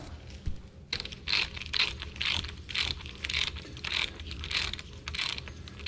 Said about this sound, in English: let's tighten this bad boy down